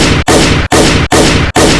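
About five loud gunshot bursts fire in quick succession, each a sharp broadband blast split off by a brief gap, all within two seconds.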